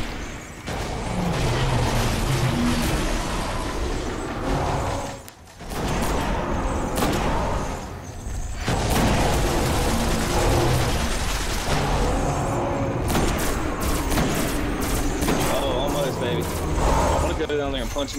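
Gunfire and booming impacts in the Destiny video game, fought against the boss Phogoth the Untamed in the Summoning Pit, crackle densely with short pauses, mixed with game sound effects and heard under a voice talking.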